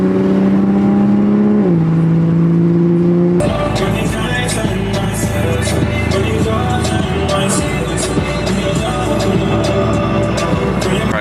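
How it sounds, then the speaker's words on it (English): A straight-piped Toyota Supra with the B58 engine drones while driving, a steady engine tone shifting pitch before a loud, busy exhaust roar takes over, heard from inside the car. "Yeah, this exhaust, man, this exhaust does sound good."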